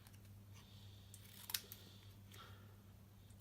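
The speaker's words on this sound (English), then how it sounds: "I'm just going to trim it down slightly" Scissors trim black cardstock in a quiet craft setting, faint soft snips with one sharper, crisp cut in the middle, all close and isolated over a low background hum.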